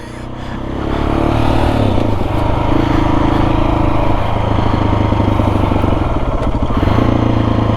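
A KTM 690 SMC supermoto motorcycle is ridden, its single-cylinder engine rising to a loud, rough, steady drone with changes in revs, close up and continuous after a quieter start.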